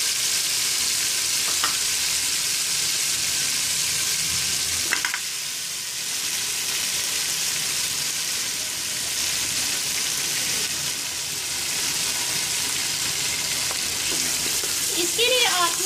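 Bone-in mutton browning with ginger garlic paste for Punjabi-style aloo gosht, a continuous dense sizzle throughout with occasional clinks and stirring scrapes, no voices.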